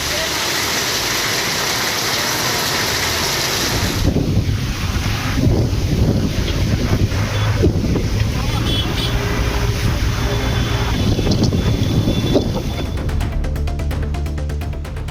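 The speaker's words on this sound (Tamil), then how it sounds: "பலத்த காற்றுடன் கனமழை கொட்டி தீர்த்தது" Strong wind and heavy rain roar together in a dense, constant wash of noise, with the texture changing partway through and no clear voices.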